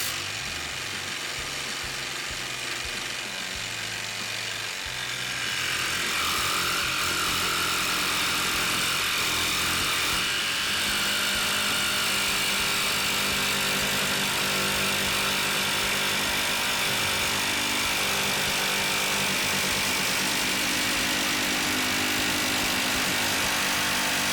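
A RIDGID 18V OCTANE cordless jigsaw cuts metal at a slow speed setting, a loud steady buzzing, rasping whine that starts after a brief quieter motor hum and continues unbroken to the end.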